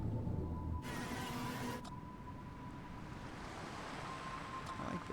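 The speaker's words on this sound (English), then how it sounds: "The sound of the waves have a unique quality to it." Ocean waves wash steadily in the video game Without a Dawn, a soft continuous roar of surf with wind-like hiss that stays faint and even throughout, with no talking.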